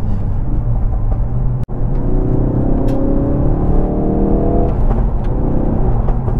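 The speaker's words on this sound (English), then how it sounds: "There's definitely no shortage of pops and bangs from the exhaust either." A Ford Focus RS engine pulls hard while driving, a loud, close cabin drone with a rising rev sweep and a sharp momentary crack partway through, then steady engine noise; no one speaks.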